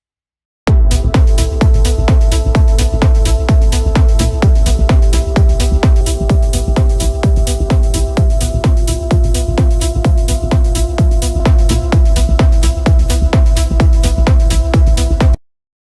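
Melodic techno mix mastered through third-party plugins, with a dense driving kick pattern, bright hats and held synth notes, loud and continuous for about fifteen seconds with no talk.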